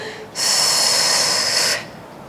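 One long breath, in and out through the nose, during a pelvic floor exercise, close and clear: a soft airy rush lasting about a second and a half in a quiet room.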